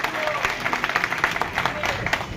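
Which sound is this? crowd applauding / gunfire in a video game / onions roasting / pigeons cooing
crowd applauding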